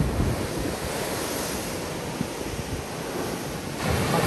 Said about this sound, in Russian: Хочется показать все, и волну